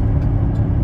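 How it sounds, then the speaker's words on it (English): A truck with a transmission that pops in and out of gear drives into town, its engine giving a loud, steady close-up rumble under road noise while moving, with no talk. "trying to get my truck into town here"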